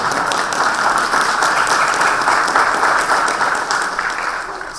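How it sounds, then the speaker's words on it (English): A church congregation breaks into loud, dense applause during a homily, sustained and steady before beginning to taper off at the end. "can we clap for them?"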